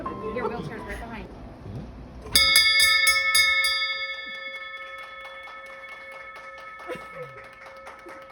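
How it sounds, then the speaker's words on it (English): A bell rung to mark the end of cancer treatment strikes several bright metallic rings in quick succession, then its tones hang and slowly decay, with voices and background murmur before and after. "It was time to ring the bell."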